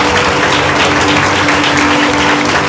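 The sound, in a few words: church congregation applause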